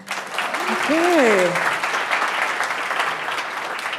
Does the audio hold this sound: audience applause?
yes